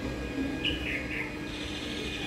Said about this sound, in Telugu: అవి చూడండి ఈ రామచిలుకలు.